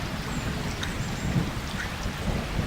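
Steady heavy rain pours down in a forest under dark clouds, a dense constant hiss with low rumbling thunder rolling underneath and no voices.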